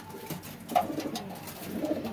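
Teddy and Sialkoti pigeons coo softly on a rooftop loft, a few low throaty coos rising and falling over quiet background noise.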